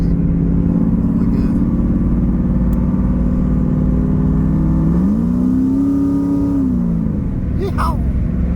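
A 1999 Camaro accelerates toward 80 mph on a road speedometer check, its engine drone holding steady, then rising in pitch as it revs harder and settling back, loud and close inside the cabin.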